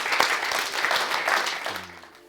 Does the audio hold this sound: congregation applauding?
yes